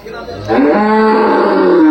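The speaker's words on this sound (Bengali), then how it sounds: "এধারে বড় বড় গাই উঠেছে দেখুন, দুধ গাই।" A single long, loud cow moo rises after a brief pause and holds steady to the end, with low background murmur, at a busy cattle market at Polerhat where dairy cows are for sale.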